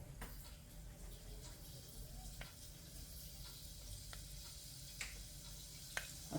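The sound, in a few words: fenugreek seeds sizzling in hot mustard oil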